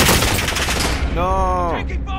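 Rapid bursts of gunfire in the video game Warzone, loud dense shots filling the first second, followed by a shouting voice over continuing fire.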